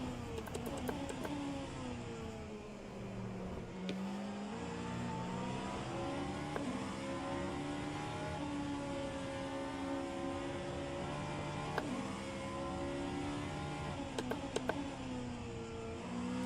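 The Vanwall hypercar engine drones steadily in rFactor 2 during practice at Road America, a sustained revving tone that rises and falls with gear shifts and throttle, heard close and continuous throughout.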